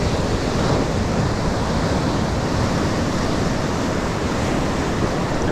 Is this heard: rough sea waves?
yes